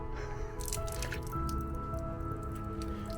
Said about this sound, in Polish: Głośne siorpanie świadczy o tym, że bardzo dobrej jakości woda tutaj jest.